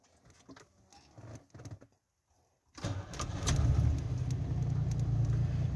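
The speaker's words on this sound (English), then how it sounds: "and let's start the car" A Pontiac Fiero GT is started inside the car. After some quiet clicks and handling, the starter cranks, the engine catches and settles into a steady, fairly loud idle.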